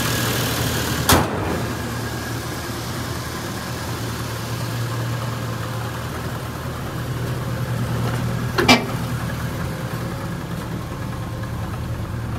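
A Geo Tracker engine idles steadily after a cold start, a low, even drone with two brief clicks or knocks standing out near the start and later on.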